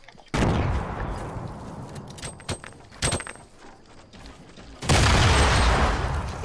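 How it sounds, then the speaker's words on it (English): Loud, booming grenade explosions in a video game: a heavy blast near the start, sharper bangs in the middle, then another big sustained blast at the end. "Oh, shit, grenades, run!"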